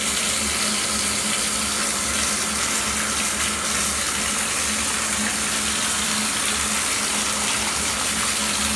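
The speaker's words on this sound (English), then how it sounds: "Turn on the hot water." Hot water runs continuously from a faucet in a strong, steady gush, loud and close, with no other sounds.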